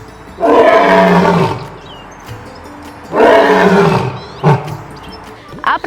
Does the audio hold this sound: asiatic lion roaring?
yes